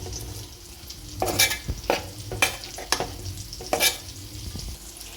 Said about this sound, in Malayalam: ഇതിലേക്ക് നമുക്ക് തേങ്ങ ചതച്ച് വെച്ചിട്ട് കൊടുക്കാം നന്നായി ഇളക്കിയെടുക്കാം